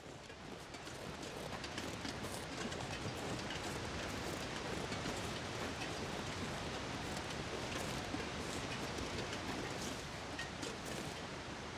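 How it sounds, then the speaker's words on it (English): Steady, dense rushing water from a waterfall close by in the survival video game The Long Dark, a broadband roar holding constant and loud throughout with no speech. "That waterfall is immediately to my right."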